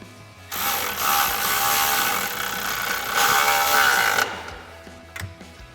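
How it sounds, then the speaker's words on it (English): A 13mm socket on a ratchet tightens an exhaust hanger on a 2018-2023 Mustang GT during a cat-back exhaust install, giving a steady, close mechanical clicking and scraping that runs about four seconds before stopping. "we'll tighten our hanger up with our 13mm socket"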